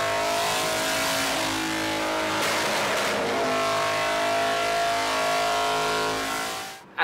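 A loud BMW superbike engine on a dyno revs hard and holds at high pitch for several seconds, steady and close, then cuts off abruptly.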